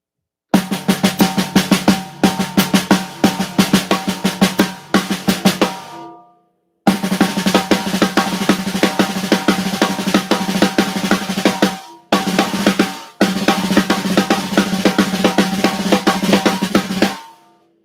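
Drum kit played in a fast paradiddle-based pattern with alternating hands, dense rapid strokes and cymbal wash in three loud bursts separated by short silences, close and unaccompanied.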